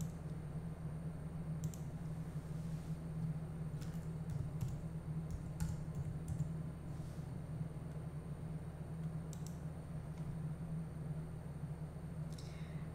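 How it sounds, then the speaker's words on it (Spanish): Someone types search words on a computer keyboard, light scattered key clicks spread out over a steady low hum. "Haz un clic en Buscar y escribe tus palabras de búsqueda."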